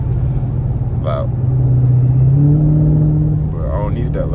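A car engine with its mufflers still fitted revs loudly and close by, heard from inside with the windows up. The rumble is deep and steady, swelling and easing across the whole stretch.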